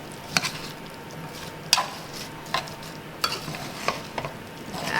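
Apple and cranberry filling with cinnamon is stirred in a bowl for hand pies, giving a run of sharp, close scraping and squishing strokes at an uneven rhythm, with no talking.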